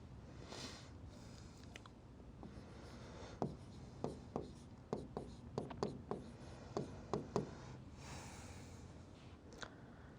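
Triangle letters are written on a board during a maths lesson, a run of crisp, evenly spaced scratching strokes close by, each tap and scrape distinct against a quiet room with no talking.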